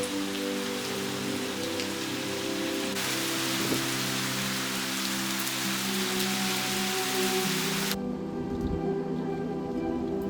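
Steady rain pours down at Sarangkot above Pokhara under a cloud-filled sky, a dense, continuous hiss of drops on surfaces that holds at the same level throughout, with no voices.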